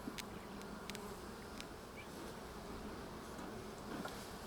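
A continuous, faint drone of many bees swarming around a busy hive in an Australian backyard, with occasional brief clicks and no talking.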